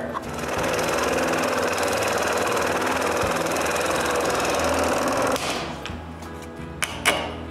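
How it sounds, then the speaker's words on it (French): A scroll saw cuts dovetail tails in oak with a fast, steady, buzzing reciprocating drone that runs loud and continuous, then stops abruptly, leaving a few light knocks and clicks. "pour le reste du tiroir, je coupe les queues avec ma scie à chantourner."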